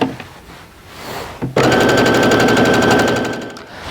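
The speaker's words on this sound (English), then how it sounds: "we're gonna line it up and sew down the other side" A sewing machine stitches quilt fabric pieces together, starting after a brief quiet handling moment and then running steadily at high speed with a rapid, even mechanical chatter, close and loud, with no talking.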